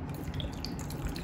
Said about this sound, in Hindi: सो अभी मैं इसमें पानी डालूंगी